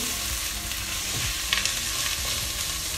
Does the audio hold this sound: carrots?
yes